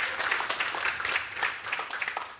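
Brief applause from an on-campus audience welcoming panelists at a talk on large web and mobile development teams, scattered clapping at moderate volume that swells and thins over a couple of seconds.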